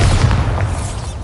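A Bombarda blasting spell going off in Hogwarts Legacy, a loud, deep booming explosion with a rumbling, sustained body lasting about a second.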